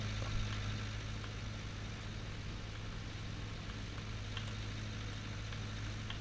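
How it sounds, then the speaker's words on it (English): Engine of an old Ford tractor labouring under load while mowing in Farming Simulator 19, a steady low droning hum that holds evenly throughout with no voices. "Old tractor, old Ford."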